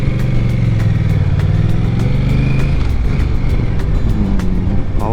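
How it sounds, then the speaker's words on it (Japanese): A loud Honda Rebel 1100 motorcycle engine close up, its pitch climbing and falling as it is revved, then settling back into a rough, steady running drone. "今ちょっと吹かしてみましたけど"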